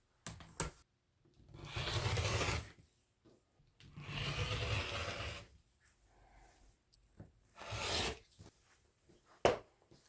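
Rotary cutter slicing through a scrappy quilt fabric strip set, three drawn-out rasping cuts separated by quiet pauses, close and soft, followed by light handling taps.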